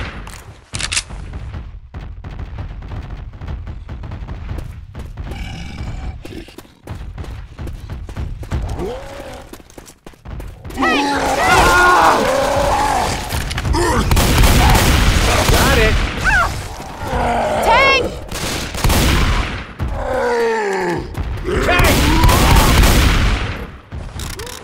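Gunfire aimed at the Tank in Left 4 Dead 2, dense bursts of rapid shots and heavy booms building to loud, continuous volleys, with shouted voices over the shooting.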